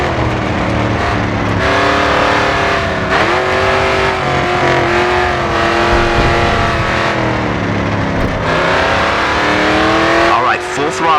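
A race car engine held at full throttle in GRID 2, loud and continuous with shifting pitch and some tire squeal, with a voice talking over it.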